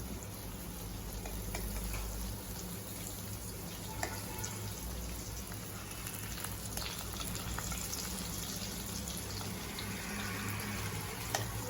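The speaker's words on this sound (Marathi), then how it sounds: "आपल्या मिरच्या एका साईडने फ्राय झालेल्या आहेत" Green chilies fry in a pan, giving a steady close sizzle with scattered pops and crackles over a low continuous rumble.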